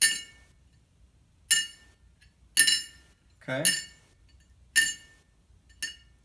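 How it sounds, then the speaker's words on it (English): A bone acoustic-guitar saddle dropped repeatedly onto a plate, giving six sharp, bright clinks spaced about a second apart, each ringing briefly; a voice speaks a short word between drops. "if I take this bone saddle and drop it on this plate and we listen to the tone."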